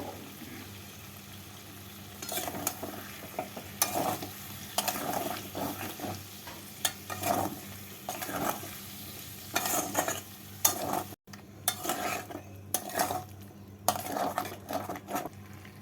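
Potatoes with salt, sugar and spices are stirred in a pan, a spoon scraping and clinking against the metal again and again over a low sizzle, with no speech.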